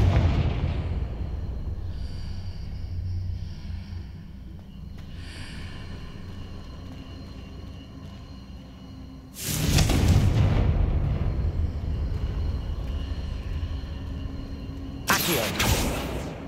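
Confringo blasting spell in Hogwarts Legacy: two sharp, loud explosive bursts several seconds apart, each a sudden full-range boom trailing into rumble, set against quieter game ambience.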